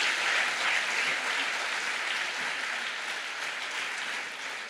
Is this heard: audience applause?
yes